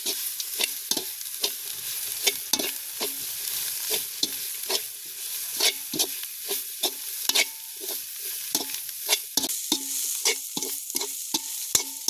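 Curry with fried vegetables and fenugreek powder being stirred in a pan in a village kitchen, a steady run of sharp spoon scrapes and clacks over a continuous bright sizzle of frying, close up and with no voices.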